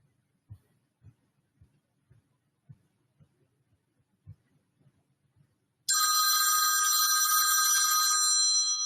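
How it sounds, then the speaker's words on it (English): An incoming phone call ringtone on a hospital operational briefing call, a loud sustained electronic tone that starts suddenly after a few soft scattered clicks and bumps and continues steadily to the end. "Not hearing any from the Bismarck area other than an incoming phone call."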